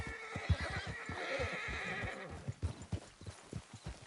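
Horses in the video game Red Dead Redemption 2 clop along with a steady, uneven hoof rhythm, and one lets out a drawn-out neigh partway through, all fairly near.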